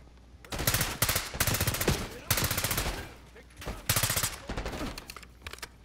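Bursts of automatic gunfire in Call of Duty Black Ops 6, several loud volleys separated by short gaps with sharp single shots mixed in, close and dense throughout.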